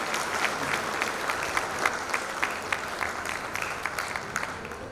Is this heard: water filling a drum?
no